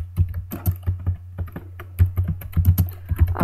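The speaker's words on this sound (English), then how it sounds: "I'm a slow typer, I know." Close computer keyboard typing, slow and uneven individual key clicks over a steady low hum, with no voices.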